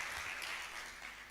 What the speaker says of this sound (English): Can we clap once again for our speaker?